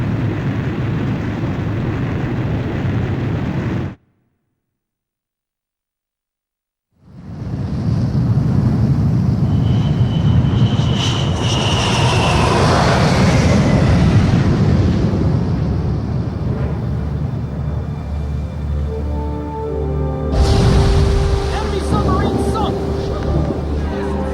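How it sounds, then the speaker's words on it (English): An aircraft launches from a ship's catapult in the video game Ace Combat 5: a steady broadband roar cuts out abruptly, then returns as a louder rumbling thrust with a rising whine, ending in a sharper burst of noise. "Aircraft launch confirmed. Catapult crew will now evacuate the ship."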